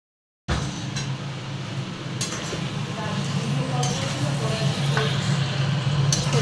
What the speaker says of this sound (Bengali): এখানে মাটন কষানো চলছে